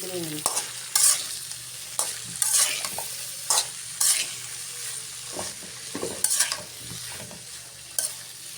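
Potatoes frying in a pan with turmeric and salt, a steady close sizzle broken by regular scraping stirs roughly every second, with no talk.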